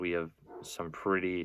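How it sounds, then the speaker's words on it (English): A dog barks in the background, a few short yips and whimpers mixed under a man's steady, louder speech in an indoor setting. "Sorry if you can hear this dog barking in the background."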